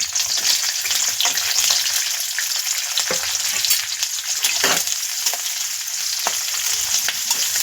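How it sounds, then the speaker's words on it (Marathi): Sliced onion fries in hot oil in a kadai with a loud, dense, continuous sizzle close by, and occasional soft stirring scrapes. "त्यामध्ये आपण कांदा टाकून घेऊया"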